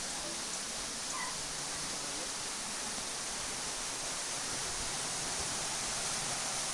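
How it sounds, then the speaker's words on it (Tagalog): Tungtong Falls waterfall roars as a steady, dense broadband wash of rushing water, constant throughout and fairly close, with no talking. "Ayun o, Tungtong Falls dyan."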